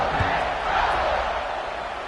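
A stadium crowd at a college football game right before kickoff, a broad, steady roar of many voices at a distance, with a sports announcer talking over it.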